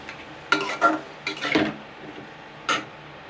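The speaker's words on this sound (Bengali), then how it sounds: "পেঁয়াজের সঙ্গে চিকেনের এই পাটা ভালো করে নাড়াচাড়া করে নেবো" Chicken feet and onions are stirred in a pan, with a spoon scraping and clinking against the metal in a few short, irregular bursts over a faint sizzle.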